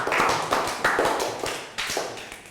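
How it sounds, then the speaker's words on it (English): A Year 3 class claps in a classroom, a loud, close burst of hand claps falling into a steady pulse of sharp beats that fades slightly toward the end. "Round of applause."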